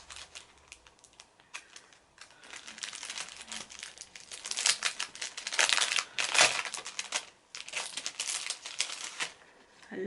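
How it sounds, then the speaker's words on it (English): Packaging with a small lavender bag inside is opened, producing loud, close crinkling and rustling in irregular bursts that swell and fade, with no talking. "Sorry for the crinkling."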